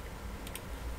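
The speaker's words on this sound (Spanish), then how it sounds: "Clic en el botón Create." Two quick mouse clicks on a computer button snap out close and sharp in a quiet room, alone over a faint background hum.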